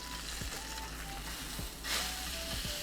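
A ribeye steak sears in a hot pan, producing a loud, steady close-up sizzle that hisses continuously with small crackles and no talking.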